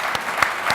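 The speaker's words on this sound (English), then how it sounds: "if you can all please give them a round of applause" A short burst of audience applause for a panel at a startup investing talk, a dense patter of clapping with a few sharper hand claps standing out, brief and fairly loud.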